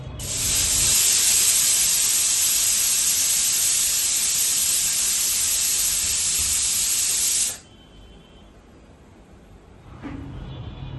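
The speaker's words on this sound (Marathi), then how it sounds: "कुकरमध्ये टाकून 3 ते 4 शिट्ट्या घेऊयात." A pressure cooker boiling potatoes lets out a loud, steady hiss of escaping steam for about seven seconds. The hiss then cuts off, leaving a quiet background, and a faint brief sound returns near the end.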